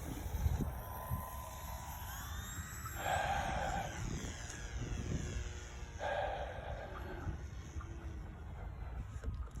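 Small model airplane engine climbing in pitch as the throttle opens, whining from a distance with a couple of louder bursts over outdoor background noise.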